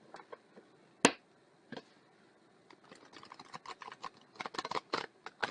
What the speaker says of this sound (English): Make sure and shuffle them well.